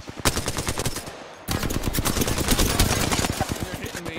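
Rapid automatic gunfire from the video game Apex Legends crackles loudly in continuous bursts, with a brief lull before a denser stretch of shots.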